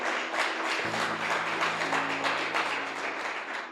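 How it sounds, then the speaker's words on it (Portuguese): A church congregation applauds in steady dense clapping, with sustained organ or keyboard tones joining underneath midway, the whole scene moderately loud and continuous. "Alguém pode aplaudir a Jesus aqui nessa noite?"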